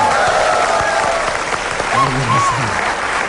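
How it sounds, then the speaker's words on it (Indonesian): Studio audience applause on an Indonesian TV comedy talk show: a steady, dense burst of clapping lasting a few seconds, with voices talking over it. "Luar biasa, tepuk tangan semua."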